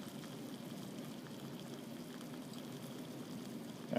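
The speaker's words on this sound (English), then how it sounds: "my water here is boiling" A pot of water at a rolling boil in a lab, a steady soft bubbling hiss that stays even and fairly faint throughout.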